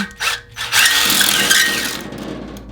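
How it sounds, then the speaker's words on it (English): A power tool whirs as a hone spins inside a Flathead Ford fuel pump rod bushing bore, a short burst that starts, stops, then runs steadily before tapering off, heard close and without talk. "All I'm doing is honing it before putting the bushing in."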